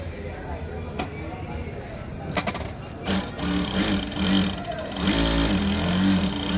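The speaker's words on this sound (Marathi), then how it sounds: "बघा छान अशी शिलाई येते" A new automatic oiling sewing machine stitching fabric, heard as a close, steady mechanical whir with a rhythmic hum that starts up partway through and runs on, preceded by a few clicks and handling sounds, with a voice talking over it.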